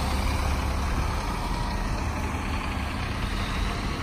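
A Big Bus tour bus idles on a Miami street, its engine giving a steady, loud, low rumble with a constant broadband hum and no talk over it.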